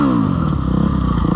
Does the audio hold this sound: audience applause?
no